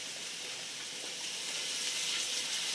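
Beef broth being stirred into onions sizzling in a pan for French onion soup, a steady bright hiss of frying with faint stirring underneath, close and continuous throughout.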